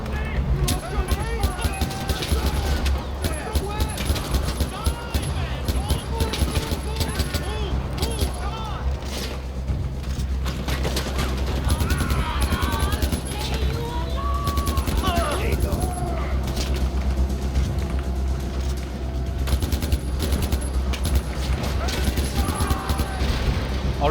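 Sustained automatic gunfire rattles through a video game firefight in Far Cry 4, dense bursts and booms overlapping continuously, with shouted voices mixed in.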